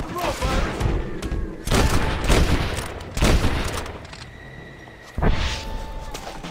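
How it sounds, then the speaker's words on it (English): Bursts of video-game gunfire from Red Dead Redemption, with repeated loud volleys of shots that crack and boom in clusters separated by short lulls, some with whooshing movement between them. "Jesus, they're shooting at us!"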